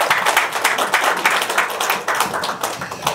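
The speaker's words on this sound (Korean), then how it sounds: "박수로 환영해 주시기 바라겠습니다" A forum audience in Los Angeles applauds to welcome a speaker, a dense, loud round of many hands clapping steadily throughout, with no voices over it.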